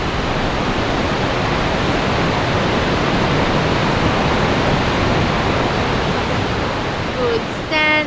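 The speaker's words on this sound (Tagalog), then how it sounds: "So Alexia, what can you say about the Niagara Falls?" Niagara Falls roars as a dense, unbroken wall of rushing water, loud and close, holding steady throughout, with a brief faint voice near the end.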